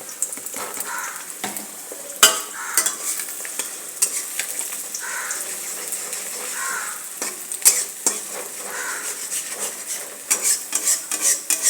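Egg and carrot fry together in a pan for a homemade egg chowmein, with a soft steady sizzle broken by repeated scraping stirs and occasional sharp clinks of the utensil against the pan.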